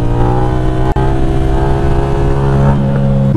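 A Yamaha 07 motorcycle engine revs hard at full throttle, a loud, steady, buzzing drone held close by with only a brief dip partway through, ridden during wheelie practice.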